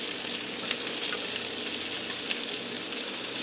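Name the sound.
Salisbury steaks sizzling in onion gravy in a pan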